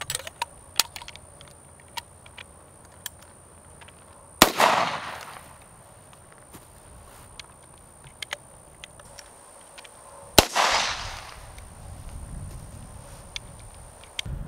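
Two sharp outdoor blasts from a Spikes Tactical 37mm Havoc launcher firing CS gas rounds, each a loud crack followed by a hissing, rushing tail, separated by several seconds of quiet with faint scattered clicks.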